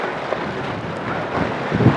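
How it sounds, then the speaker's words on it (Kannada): Steady, rough wind buffeting the microphone on a misty hilltop in Chikmagalur, a continuous broadband roar that swells slightly toward the end, with no voices. "ಗಾಳಿ ಮಾತ್ರ ಫುಲ್ಲು ಜೋರು ಐತಿ"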